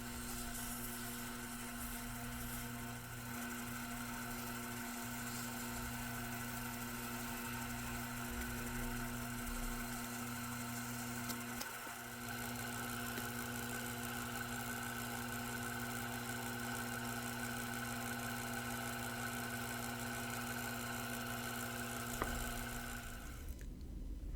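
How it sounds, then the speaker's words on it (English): A mini lathe hums steadily with a motor whine while abrasive grits polish the brass screw heads of an antique router plane, continuous and close, with faint ticking and no talk. "Back to the mini lathe and going down or up the various grits to the finer grits until I polish up the screw heads."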